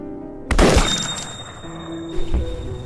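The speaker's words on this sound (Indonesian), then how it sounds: "seorang sniper cantik bernama Segin sedang menembak bos mafia" Gunfire in a film scene where a sniper shoots a mafia boss: a sudden loud shot bursts in after a quiet stretch, with a lingering rumble and a second, weaker blast near the end.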